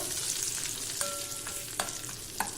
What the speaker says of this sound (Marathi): या तेलामध्ये हे सर्व मसाले छान तळले जातात